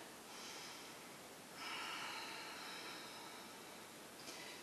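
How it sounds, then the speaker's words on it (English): Slow, audible breaths drawn in and let out during a seated chair yoga practice, soft airy rushes with a longer exhale in the middle, close and quiet with no speech. "And breathe."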